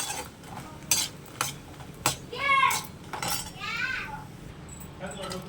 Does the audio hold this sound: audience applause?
no